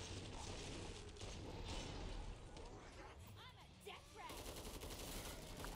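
Rapid automatic gunfire from a weapon in the Killing Floor 2 video game rattles in continuous bursts, with someone talking over it and mechanical clicks in between.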